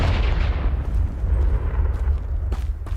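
A Confringo explosion spell bursts in the video game Hogwarts Legacy, a loud booming blast with a rumbling low tail, followed by a couple of sharp cracks near the end.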